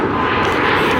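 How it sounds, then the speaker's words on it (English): An airplane flies overhead at a music festival, a loud, broad, continuous engine roar filling the moment with no voices. "plane"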